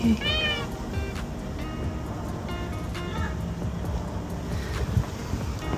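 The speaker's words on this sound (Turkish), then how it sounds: "Kedi sevdirmiyor kendini ya" A single loud meow from a cat at the start, followed by steady wind and water noise with faint distant sounds.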